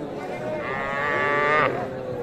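Young bulls and calves at Aftabganj cattle market moo in a long, loud, rising call that swells and then cuts off, with busy market crowd noise underneath.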